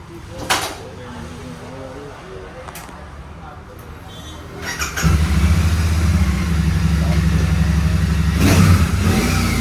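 Royal Enfield Super Meteor motorcycle being ridden home, engine idling, then revving up into a loud, steady drone that continues as the bike moves off, with someone speaking briefly at the start.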